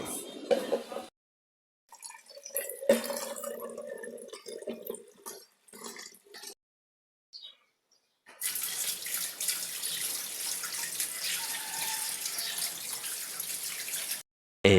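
Water pouring into an aquarium tank, a steady hissing gush of running water after a stretch of quieter splashes and knocks, close and continuous.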